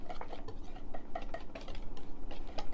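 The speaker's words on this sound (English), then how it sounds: "Give it a nice little whisk till it's fully combined." A whisk taps and clicks quickly against a bowl while wet ingredients for pumpkin oat bars are combined. The clinks come in a steady, close, moderately loud rhythm with no talking.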